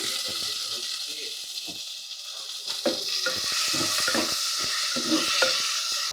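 Ginger garlic paste and tomatoes fry in a pan for a home veg biryani, a steady close sizzle with stirring clatter and scrapes running throughout, with occasional brief speech over it.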